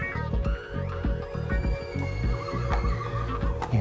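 A horse neighs loudly at close range, a long wavering whinny over heavy snorting and stamping hooves, at a racing stable.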